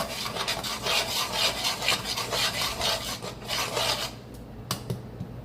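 A spoon scrapes and rubs through a thick spice paste in a pan with rose and kewra water added, in steady close strokes that thin out near the end.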